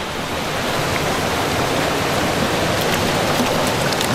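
Water pours steadily into a bucket at a flooded spillway, a loud continuous rushing splash with no pauses, close and dominant for a few seconds.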